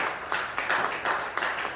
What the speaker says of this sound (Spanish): Dale fuerte el aplauso al Padre y Espíritu Santo.